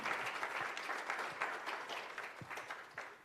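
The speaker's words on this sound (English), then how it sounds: "a round of applause, please" Steady applause from a crowd, a dense wash of clapping hands lasting a few seconds without pause, moderately loud.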